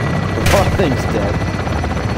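Helicopter rotor noise and gunfire from the Modern Warfare 2 video game campaign, a steady loud roar throughout with a sharp burst near the start.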